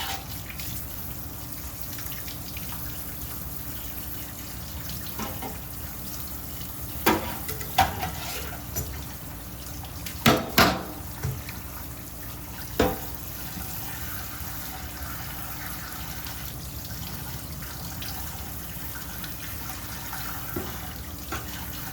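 Running water rinses the handlebars of a 1967 Schwinn Typhoon bicycle, a steady hiss of spray with a few louder splashes and knocks scattered through it.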